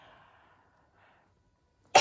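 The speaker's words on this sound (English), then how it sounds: "I'm gonna sneeze" A single sharp, close sneeze bursts out at the end after near silence and a faint murmur.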